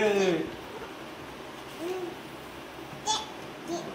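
A flash card toy plays a short hooting bird call near the start, followed by faint, scattered child babbling and soft household noise.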